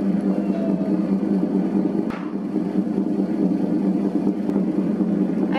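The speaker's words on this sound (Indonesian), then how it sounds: "Nyalakan mesinnya, langsung mengadon." A bread machine kneads chocolate bread dough made with chocolate milk and egg, a steady droning motor hum that continues without pause, with a couple of faint knocks.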